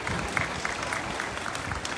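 Audience applause at a Thai folk dance performance during an outdoor fruit fair in Nakhon Nayok, a steady burst of clapping from a crowd throughout.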